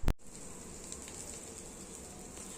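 Dosa batter mixed with onion sizzles in hot oil in a paniyaram pan, a steady soft crackling hiss that follows a single sharp knock at the start.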